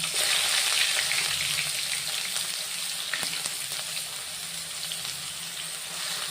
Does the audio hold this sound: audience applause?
no